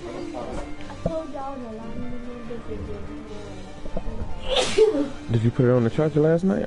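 A sneeze bursts out once amid casual conversation inside a car, loud and close, with people talking before and after it.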